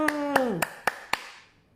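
A single person claps five times, sharp and close, at an even pace of about one clap every quarter second, while a sung or drawn-out voice slides downward beneath the first few claps.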